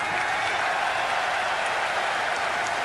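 Arena wrestling crowd roaring and applauding in a steady, dense wash of cheers that fills the whole stretch without a break, loud and close, with no speech standing out.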